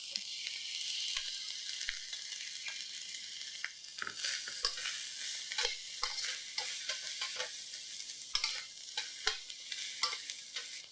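Egg cooks into lumpia spring roll filling in a pan with steady frying sizzle and repeated scraping stirs, close and continuous, no voices.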